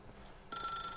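Telephone ringing in the video game The Stanley Parable: after half a second of quiet, a bright electronic ring starts abruptly and continues steadily and clearly to the end.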